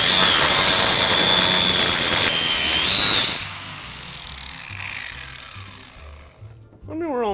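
Loud high-pitched whine of a power tool cutting open a brake pad for a few seconds, then stopping, with a lower mechanical hum and speech following.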